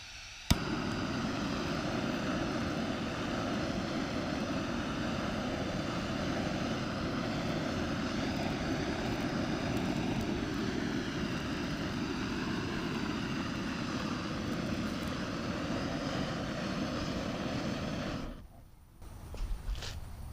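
A portable propane flame thrower blasts a stubborn weed with a loud, steady roar close by. The roar holds for about eighteen seconds, then cuts off abruptly.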